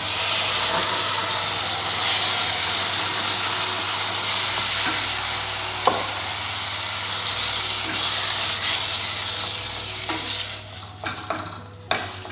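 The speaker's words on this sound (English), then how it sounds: "Now we're going to add in the chopped tomatoes." Chopped tomatoes hit a hot pan of onion and garlic, bringing a loud, steady sizzle and hiss that runs throughout, with a few stirring clinks and scrapes toward the end.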